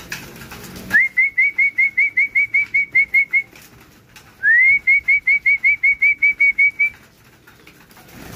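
Two long runs of rapid, evenly spaced rising whistles made to call pigeons, each burst a quick sharp note repeated over a dozen times, with a short pause between runs.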